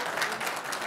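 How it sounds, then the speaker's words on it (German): Audience applause during a live science show, a dense wash of clapping that fills the short moment evenly and fairly close. "Also kurz Applaus bitte"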